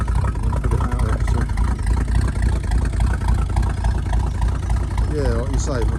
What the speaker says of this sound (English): a cold start, no smoke, nothing like that. It's idling.